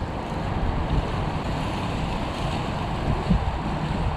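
Strong wind roars around a Zino 2 drone in very windy conditions, a loud continuous rushing buffet with a few gusty bumps and no other sounds.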